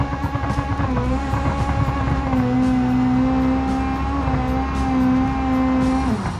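A twin-turbo Hirochi Sunburst in BeamNG makes a no-prep drag racing pass at Alder drag strip, its engine a steady loud drone with a sustained tone that shifts pitch partway through, then drops off at the end.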